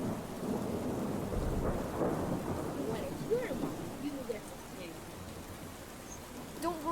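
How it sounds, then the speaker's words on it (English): A thunderstorm in a video game: heavy rain hisses throughout while low thunder rolls and rumbles beneath it, and faint game sounds chirp near the end. "The storm is getting worse."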